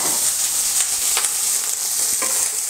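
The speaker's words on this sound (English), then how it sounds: "Put a tiny little bit of oil, take all my bacon, straight in." Bacon fries in a little oil in a pan, a steady close bright sizzle running throughout the short moment, with a few brief crackles and pops.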